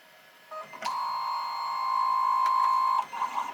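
A Siser Romeo vinyl cutter cuts small holes for a hotfix rhinestone template, giving a steady, fairly quiet mechanical whine that holds for a couple of seconds before brief clicks and stops.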